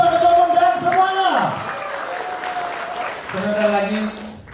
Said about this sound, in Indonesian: Tepuk tangan sekali lagi untuk Pak Ketua Umum dan semuanya